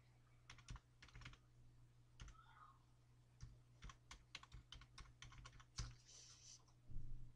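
Keys clacking on a computer keyboard in a classroom, an irregular run of sharp taps and short bursts, close and fairly quiet against a steady low hum.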